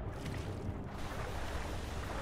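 Rushing waterfall in Skyrim, a steady broadband wash of falling water that holds even and close throughout the short stretch with no break or voice.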